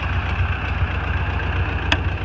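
A Ford 8N tractor engine idling outdoors in winter, a steady low rhythmic chugging thrum close by, with a single brief clack partway through.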